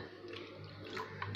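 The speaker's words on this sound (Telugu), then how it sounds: "అలా నేను నీళ్ళు పోసే" Water poured into a thin rava dosa batter, a soft steady liquid pour that runs for a little over a second with a slight splash near the end.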